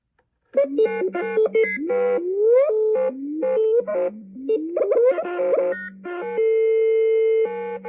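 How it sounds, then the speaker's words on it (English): A Star Wars Galaxy's Edge Sith wayfinder toy plays electronic tones that resemble a dial-up modem: steady and gliding beeps, chirps and warbles in quick succession, ending on a sustained tone, loud and close. "Sounds like the old dial-up."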